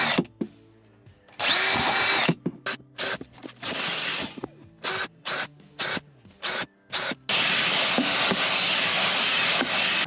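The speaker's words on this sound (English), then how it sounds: "I've drilled a little tiny pilot hole, like a 1/8 pilot hole through" Close power drill boring a small 1/8 pilot hole through the wall of an offroad caravan during a diesel heater install, with short trigger bursts that end in a long, loud sustained whine; no talking.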